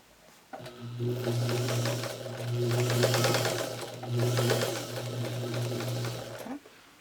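A sewing machine chain-pieces quilt block pieces, its steady motor hum and rapid needle clatter running continuously for several seconds, dipping briefly midway before carrying on and stopping at the end, close and clear with no talking.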